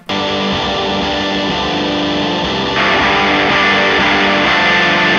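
A heavily distorted electric guitar plays a sustained, dense riff with no pauses, growing slightly louder and brighter partway through.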